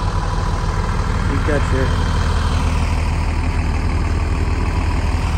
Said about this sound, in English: And then again, we do have the motor running.